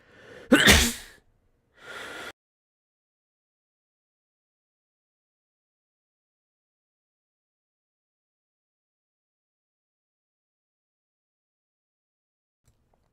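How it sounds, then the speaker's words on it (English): Two sneezes close together, a sharp loud burst followed by a shorter one, then a long stretch of near silence. "Wanted to get out before sneezing, but I couldn't do it"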